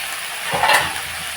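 Chili and garlic fry in oil in a covered pan, giving a steady close hiss with a faint clink of cookware partway through.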